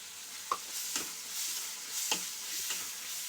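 Tomatoes fry in a pan with a soft, steady sizzle, broken by a few clinks and scrapes of a spoon stirring them, fairly quiet and close.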